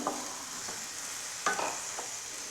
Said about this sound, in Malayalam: അപ്പോൾ അതിലേക്ക് നമ്മൾക്ക് നീളത്തിൽ മുറിച്ച കോവയ്ക്ക് ഇട്ട് കൊടുക്കാം